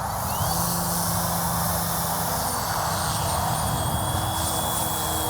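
An AW911 Airwolf GPS RC helicopter hovers and flies with a constant high-pitched rotor and motor whine, steady and fairly close throughout without any break.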